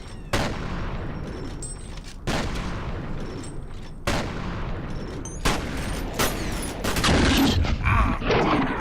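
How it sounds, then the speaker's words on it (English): Shotgun blasts in the shooter game F.E.A.R., four loud booming shots spaced roughly two seconds apart, each followed by a rumbling tail, with heavier layered gunfire and clatter building near the end. "basically 4 solid shotgun shots to the face and he should die"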